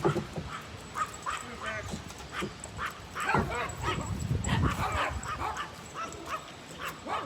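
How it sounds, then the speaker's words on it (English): Several dogs bark repeatedly close by, with yips and whimpers mixed in, and a person talks briefly among the barking. "don't know what they're barking at"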